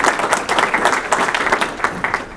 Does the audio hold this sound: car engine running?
no